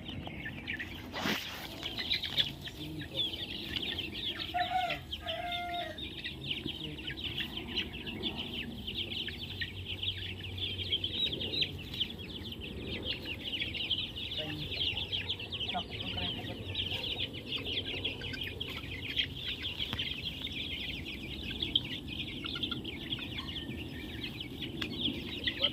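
Chickens being moved into a new coop cluck intermittently amid steady farmyard background noise, with people talking nearby throughout.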